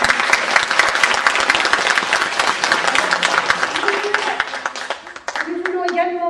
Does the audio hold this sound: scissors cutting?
no